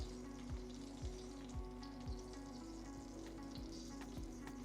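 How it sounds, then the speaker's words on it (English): Sausages frying gently in oil give a faint, steady crackle and sizzle, with a low regular ticking pulse running underneath and no one speaking. "sausages are frying a little bit"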